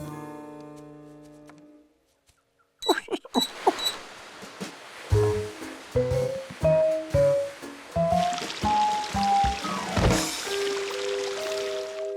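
Cartoon water sound effect in a children's animated show: after a tonal lead-in and a brief pause, a run of bubbly, splashy squelches and plopping notes follows in an uneven rhythm, close and fairly loud, with no speech.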